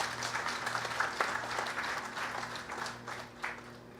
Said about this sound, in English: I ask you to join your hands again in applause as we welcome Mr. Leon Ajoda to address us.